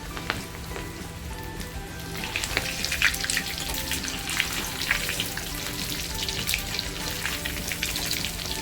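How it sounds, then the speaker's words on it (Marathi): Steady crackling sizzle of prawns deep-frying in hot oil in a small wok, with bright spitting pops throughout and no voices. "आणि छोट्याशा कढईमध्ये आता हे फ्राय करते"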